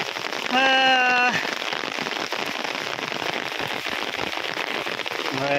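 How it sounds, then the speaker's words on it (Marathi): Heavy monsoon rain pours down in a Konkan village in a loud, constant hiss, with a voice calling out briefly near the start and again at the end. "काय आला पाऊस"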